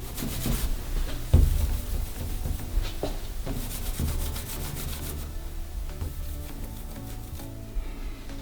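Steady rubbing and squeaking of a clay bar against smooth car paint goes on for several seconds, close up, with occasional soft bumps.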